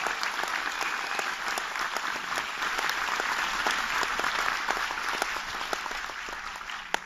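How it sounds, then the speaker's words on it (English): An audience at a business seminar gives a sustained round of applause, steady dense clapping with occasional sharper claps standing out. "So another big round of applause, please"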